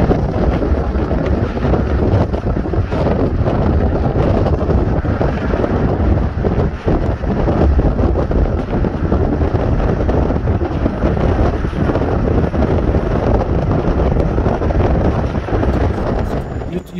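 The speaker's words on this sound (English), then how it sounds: "We're gonna go to highway and we're gonna ride at 80 miles per hour." Heavy, steady wind roar buffets the microphone at 80 mph on a highway, with a hitch-mounted four-bike rack carried on the vehicle, loud and continuous for the whole stretch.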